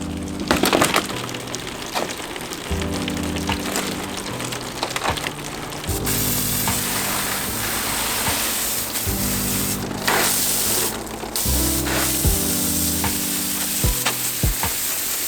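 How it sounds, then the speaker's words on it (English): Water drains from a garden water feature over a sheet of old roofing, giving a loud, continuous rushing splash close by, alone without voices, with a low hum changing steadily underneath. "I've grabbed some of this like old roofing that I'm gonna put in here and let the water drain out."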